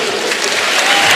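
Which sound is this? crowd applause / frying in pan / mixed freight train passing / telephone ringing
crowd applause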